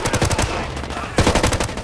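Automatic gunfire in the tactical shooter Ghost Recon Wildlands rattles in two rapid, close bursts of sharp cracks, with a short lull between them.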